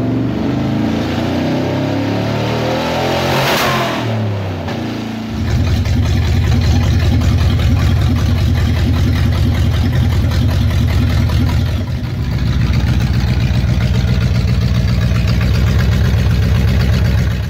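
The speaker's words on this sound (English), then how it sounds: "Here she is running with only headers connected and no exhaust or cooling, and sounding a little bit rough." A loud, rough-running Toyota 1UZ-FE V8 in a Range Rover Classic idles with only headers and no exhaust, its harsh mechanical roar steady, with a revving burst near the start and a rhythmic lumpy pulse.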